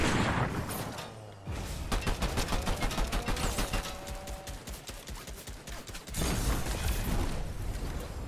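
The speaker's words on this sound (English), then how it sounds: "I'm gonna snipe this dude out of air." Gunfire in the Fortnite video game: a dense, rapid series of sharp shots and bursts crackling over busy in-game background noise, loud and continuous from start to end.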